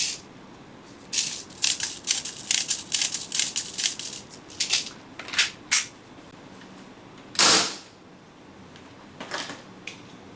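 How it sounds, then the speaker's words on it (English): A BB gun fires a string of rounds in quick, sharp, close snaps, clustered in bursts with short pauses, one louder crack standing out later, and no talk. "We'll fire 23 rounds."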